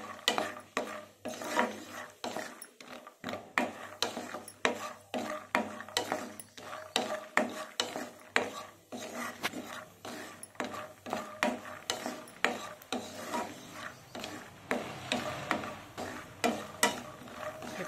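Peanuts frying in oil and being stirred in a pan for gongura pulihora, a spiced red sorrel leaves rice, with a steady run of rhythmic scraping strokes over a soft sizzle, close and with no talking.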